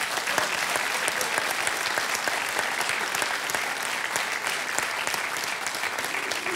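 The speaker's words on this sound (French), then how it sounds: "applaudissements pour toutes les deux" A studio audience at a French television game show applauds, giving a loud, close, sustained burst of dense clapping that holds steady throughout.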